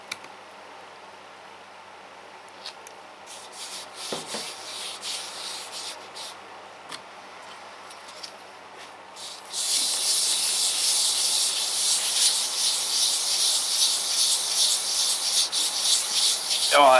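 A small engine cylinder head lapped on 1000 grit sandpaper: soft intermittent rubbing and scraping at first, then a steady loud back-and-forth grinding rasp up close for the second half.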